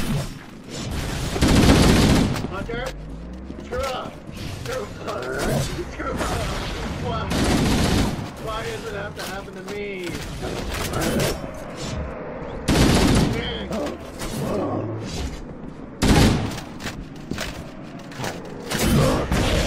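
Gunfire in the Halo Master Chief Collection video game: repeated bursts of shots and booming impacts come in clusters, loud and close, mixed with players chattering over them.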